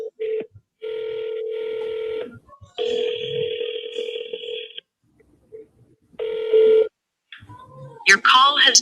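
A phone call being placed: bursts of ringback tone repeat with gaps between them, loud and close, and a short stretch of voice follows at the end.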